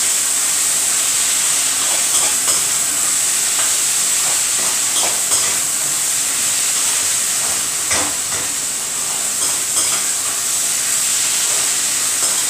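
Brinjal tomato curry made with white brinjals is stirred in a hot pan after chili powder goes in, with a constant loud sizzle and hiss and scattered scraping strokes of the spoon.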